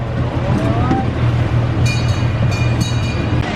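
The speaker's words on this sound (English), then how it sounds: "Very relaxing train ride." Open-air amusement park train ride beside a river, a steady low rumble of running gear and carriages throughout with a few faint metallic squeaks and clinks, heard from on board.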